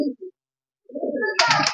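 Racing pigeons cooing close by in a loft, a couple of short low murmurs, a pause, then a longer throaty coo with a brighter flutter-like burst at the end.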